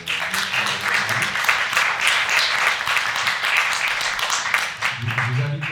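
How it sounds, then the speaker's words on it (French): Audience applause after a round-table talk on digital art, a sustained, fairly loud spread of clapping from a room of listeners, with a voice coming in over it near the end. "On peut applaudir."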